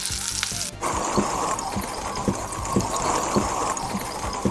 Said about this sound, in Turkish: Günümüzde ise filmlerde duyduğumuz yağmur sesi çoğunlukla kızartma sesidir